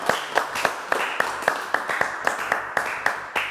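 Audience applause for a singer at a live show, a thin, sparse round of hand claps with distinct individual claps repeating steadily, moderately close, with some background murmur.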